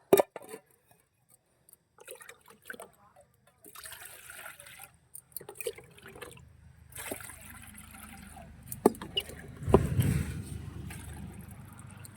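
Water is poured into a pot of rice for vegetable biryani, a faint trickling and splashing that builds into a heavier gush near the end, with scattered kitchen clatter and no talking.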